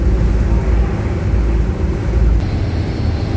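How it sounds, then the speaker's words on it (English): Loud, steady low-frequency engine drone from the engine room at the back of a ferry, a constant rumble and hum filling the space without a break and with no talking. "I know it's loud because we're back by the engine room"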